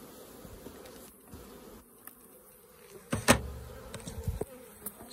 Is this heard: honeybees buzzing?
yes